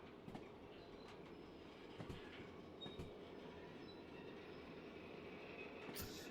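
In the Derail Valley train game, a freight train's wheels slip, heard as a soft, continuous rolling rumble broken by faint, evenly spaced clanks and a light metallic squeal.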